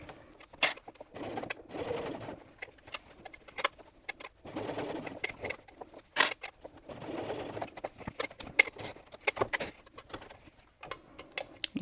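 A sewing machine bastes a curved zipper seam in short stitching runs separated by pauses, close and moderately quiet, with light clicks and handling between runs.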